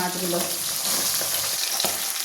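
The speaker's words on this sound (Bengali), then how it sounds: "এইভাবে বাকি মাছটা ভেজে নিচ্ছি" Pabda fish sizzle loudly in hot oil, a dense continuous crackle and spit close up, with stirring noises and no voices.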